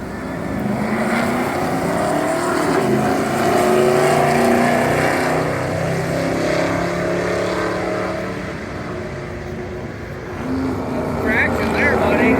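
Drag racing cars at the Joliet drag strip give a constant loud engine roar, with a person talking over the noise.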